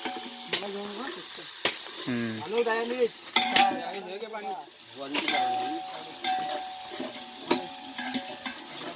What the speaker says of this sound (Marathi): चिकनला फोडणी द्यायचं काम चालू आहे.